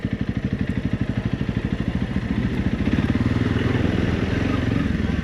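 Honda CRF 300 Rally off-road motorcycle engine running close by with a steady, throbbing idle that grows slightly louder and rougher partway through, no talking.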